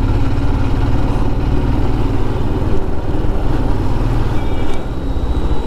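Royal Enfield Himalayan motorcycle engine running steadily while riding a winding mountain road from Srinagar to Sonmarg in Kashmir, a loud continuous low rumble with wind noise that holds throughout.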